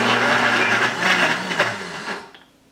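An AICOOK professional blender grinds peanuts into peanut butter with a loud, close motor whir that runs steadily and then winds down and cuts out near the end.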